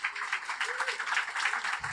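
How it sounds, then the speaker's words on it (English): A conference audience gives a round of applause for the event's sponsors, a brief, fairly steady burst of many hands clapping. "Round of applause."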